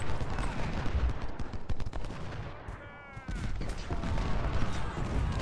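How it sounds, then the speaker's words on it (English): Cannon and musket fire rumble without pause in a Civil War battle in the video game Ultimate General Civil War, with a dense, crackling barrage that briefly dips before building again. "Man, there's so much cannon fire."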